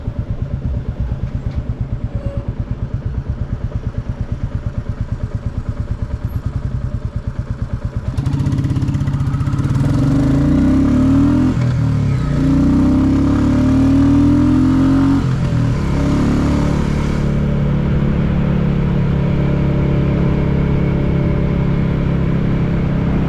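A Royal Enfield Classic 350 motorcycle rides through crosstown traffic, its single-cylinder engine thumping steadily up close. Partway through, the engine note rises and becomes louder and busier with accelerating revs and passing vehicles. No one speaks.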